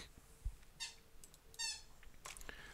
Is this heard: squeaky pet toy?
yes